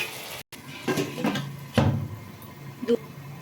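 Metal cookware clatters as a lid goes onto a pan of cooking spice paste for a chhana recipe. Several sharp knocks and scrapes sound up close over a faint background hiss.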